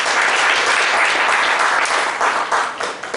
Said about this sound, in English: join me to welcome with a big round of applause